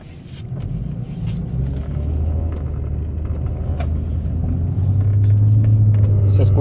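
A 2007–2012 Nissan Altima with the 3.5 engine runs smoothly while driving just after an oxygen sensor change, a steady close interior rumble that builds slightly toward the end.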